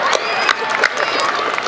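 A crowd at a Citizens of the Year ceremony gives a loud cheer, with whoops, shouts and clapping forming a bright, dense burst of noise.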